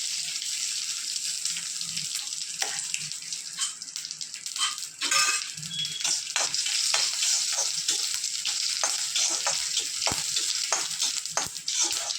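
Mustard seeds, dried red chili and curry leaves crackle and sizzle in hot oil for a South Indian coconut chutney tempering, a dense continuous spatter with sharp pops and occasional stirring scrapes.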